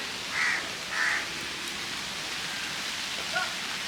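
Steady soft hiss of rain falling continuously, with a couple of brief distant bird calls over it.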